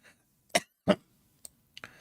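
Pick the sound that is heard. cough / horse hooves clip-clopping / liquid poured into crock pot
cough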